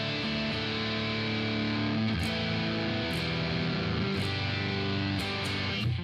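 A Charvel hardtail electric guitar with a string-through body, a Seymour Duncan 59 neck humbucker and a JB bridge humbucker plays distorted, sustained chords, changing roughly every second, with no voices.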